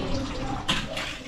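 Water running strongly from a tap, a loud continuous hiss and splash with a brief surge partway through, close by and without speech.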